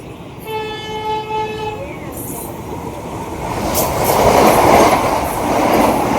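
Train on the return journey from Shirdi rumbles loudly on the rails, opening with a sustained horn blast that fades after about two seconds, then a rising roar of wagons and clacking wheels.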